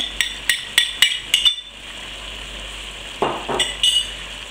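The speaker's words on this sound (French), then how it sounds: "je continue la cuisson pendant quelques minutes, le temps que les oignons deviennent translucides et se colorent légèrement" Onions and ginger frying in a pan for pork curry: a steady background sizzle under a series of sharp, rhythmic metallic clinks from stirring, a pause, then a few more scrapes and clinks, close up, with no talk.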